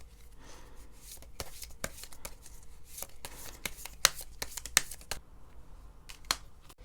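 Tarot cards shuffled and drawn, a run of crisp papery riffles and sharp flicks with a few louder slaps, close and quiet, with no talking.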